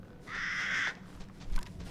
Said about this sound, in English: there's some crows on the ground there